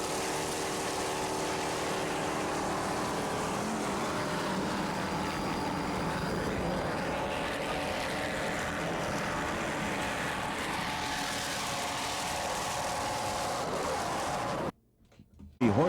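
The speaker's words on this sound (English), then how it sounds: "Horsepowered Carolina racing engines with Mercruiser drives." Racing powerboats with high-horsepower Carolina engines and Mercruiser drives roar in a loud, continuous drone during an offshore race at South Padre Island, Texas, broken by a brief dropout near the end.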